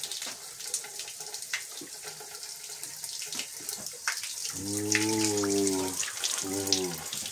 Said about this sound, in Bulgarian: Попаднахме на неизвестна чешма за мен в Родопите